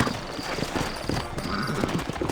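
Horses clip-clopping on a dirt street in the Old West town of New Austin in Red Dead Redemption, a steady run of close, uneven hoofbeats over ambient background noise.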